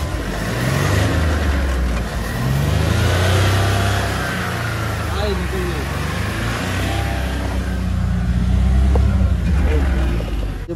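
A Mahindra Bolero's engine revs in surges while the vehicle sits stuck with wheels slipping in a field, a loud mid-pitched drone rising and falling over about ten seconds, with voices talking over it.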